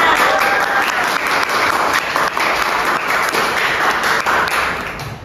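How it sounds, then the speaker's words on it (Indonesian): Students applaud a guest welcomed onto a school podcast, a loud, close burst of many hands clapping that carries on steadily before easing off at the end. "Beri tepuk tangan untuk Kalistia"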